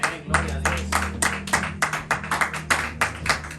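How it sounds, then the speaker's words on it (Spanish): Clapping fills a church as the congregation applauds, many hands beating a fairly steady rhythm over a low background hum. "dale un aplauso al Rey"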